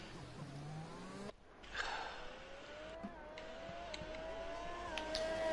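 An Aston Martin race car in a racing game sim, its engine whining and climbing in pitch through gear changes, with a brief cut as it shifts, then a rising drone that keeps building.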